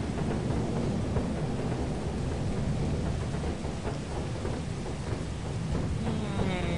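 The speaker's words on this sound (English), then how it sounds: "Oh good, storm." Heavy rain roars steadily under rolling thunder during a storm in the video game Lethal Company, a dense, constant wash that fills the whole stretch with faint tonal game sounds near the end.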